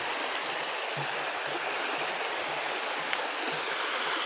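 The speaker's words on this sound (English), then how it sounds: "Nice little bobbling stream." A small babbling stream flows near a footbridge in hill country, a steady close rush of water with faint bubbling trickles and no voices.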